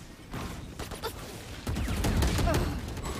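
Rapid bursts of video-game gunfire crackle in a fast exchange of shots, sharp repeated cracks and rattling volleys under brief game sounds.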